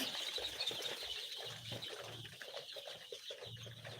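Chicks in a brooder flap their wings and cluck, making a busy, continuous rustle of fluttering with soft, scattered peeps and clucks at moderate volume.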